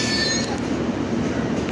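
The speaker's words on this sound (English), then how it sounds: "an underground train to Ealing Broadway has just arrived" London Underground train arriving at Barking station, a loud continuous rumble of wheels on track with a high metallic squeal at the start that fades as the train rolls in.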